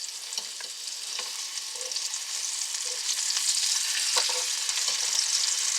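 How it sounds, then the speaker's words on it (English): Bacon fries in a pan with a bright, continuous sizzling hiss dotted with small pops and crackles, close and fairly loud, swelling slightly over the seconds with no voices. "We're just waiting for the bacon to get done. I'll turn the bacon."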